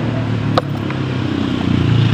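A motorcycle engine runs close by with a loud, steady droning hum and a single sharp clack partway through, holding the same level without clear revving.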